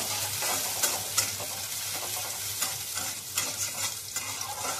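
Chopped garlic sizzles in a pan while being stirred for a pasta made with flour dough. The frying crackle stays close and steady throughout, broken by repeated scraping and clacking spoon strokes, with no talking.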